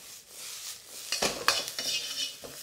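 Food being stirred in a hot wok: a soft background hiss, then a cluster of metallic scrapes and clanks from the utensil against the pan, brief and close.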